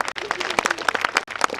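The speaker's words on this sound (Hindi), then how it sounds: "एक बार जबरदस्त ताली चाहूंगा" An audience at an RCM business celebration program bursts into brief, dense clapping, with a short gap midway and some voices mixed in.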